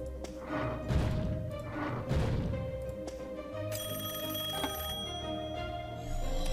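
A telephone rings in the puzzle video game Rooms: The Main Building, a bright repeating bell that comes in partway through over steady game background sounds, with no talking.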